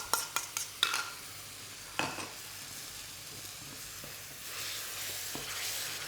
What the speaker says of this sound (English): give that a nice scrape through. Get all that flavour off the bottom and really sort of deglaze that wok